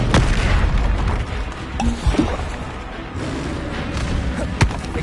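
The Glacius ice spell cast in the PS5 game Hogwarts Legacy lands as a loud booming impact with heavy thuds and crackling bursts over dense in-game noise, with a sharp hit near the end.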